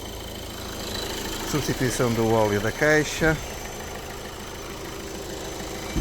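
A Renault Clio 1.5 dCi diesel with about 226,000 km idles with a strange noise, a steady close engine rumble running throughout while someone speaks briefly over it.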